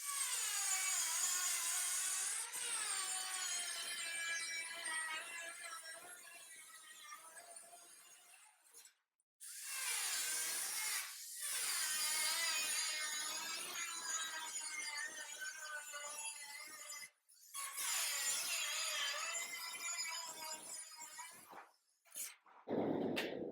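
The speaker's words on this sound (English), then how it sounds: "I'm going to cut this with the cutoff wheel" A cutoff wheel grinds through metal during custom car roof fabrication, a loud high whine in long passes broken by brief pauses.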